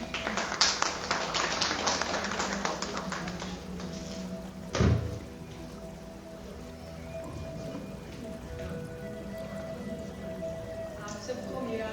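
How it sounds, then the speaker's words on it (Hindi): Audience applause welcoming someone speaker to the stage at a Hindi writers' guild autumn literary festival in Canada; a dense burst of clapping for the first few seconds that thins and fades out, with a thud midway and a voice at times. "तालियों से स्वागत करें प्रीति जी।"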